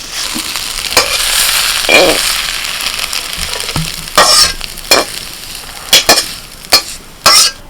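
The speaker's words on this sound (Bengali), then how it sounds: "বেশ কিছুক্ষণ ধরে নাড়াচাড়া করতে করতে কুদরিগুলো ভাজা হয়ে গেছে" Sliced kundri (ivy gourd) fries in a pan, a continuous sizzle broken by repeated sharp scraping strokes of a spatula stirring, growing more frequent toward the end, close and clear with no talk.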